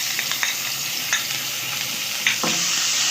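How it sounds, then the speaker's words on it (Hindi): Garlic and ginger fry in hot oil with whole garam masala spices, a loud, steady close sizzle with occasional stirring scrapes and spatters. "अब ये मसाले थोड़े से भुन गए हैं तो मैं अब इसमें लहसुन अदरक डाल दूँगी"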